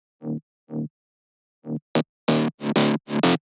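A Spire synth preset plays a short sequence of clean tones with its built-in distortion removed: two soft notes, a pause, then a quicker run of brighter, fuller notes ending abruptly.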